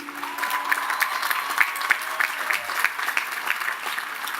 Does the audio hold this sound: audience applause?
yes